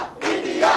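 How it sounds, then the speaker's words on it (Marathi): A stadium crowd in Pune cheers and celebrates during India's T20 World Cup match against South Africa, a loud, dense roar swelling after a brief dip and holding steady. "तुम्ही बघू शकता पुणेकरांचा जल्लोष सुरू झालेला आहे"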